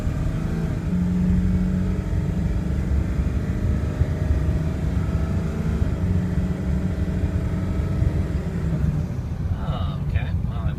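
A 2003 Ford F250 4x4 pickup with its 7.3L diesel engine runs with a loud, steady, continuous drone, close by and unchanging throughout.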